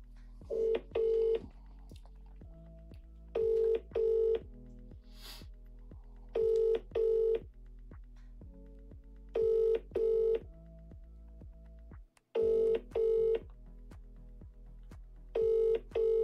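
Telephone keypad dialing to call a contest winner: repeated pairs of bright, clipped DTMF beeps in bursts, alternating with a steady tone, quiet and regular across the whole stretch.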